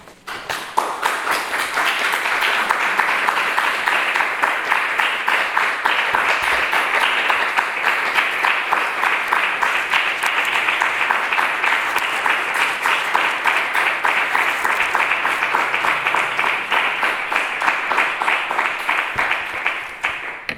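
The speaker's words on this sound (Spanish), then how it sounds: "Muchas gracias por los aplausos." After a lecture on the face of God shown by Jesus, the audience claps in a long, sustained round of applause. The clapping is bright, dense and even, keeps an unbroken level for about twenty seconds, and ends abruptly.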